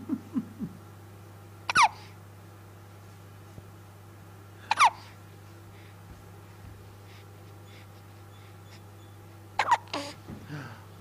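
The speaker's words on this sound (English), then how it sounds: "Lots of hiccups." A baby hiccups three times at spaced intervals, each a sharp, close little gulp standing out against a quiet room with a low steady hum.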